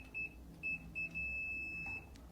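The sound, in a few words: multimeter continuity test beeping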